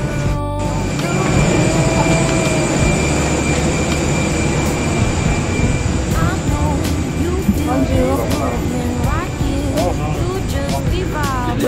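Steady, loud airliner cabin drone with engine and ventilation hum filling the whole stretch, a brief clatter near the start and faint voices and small noises over the constant roar.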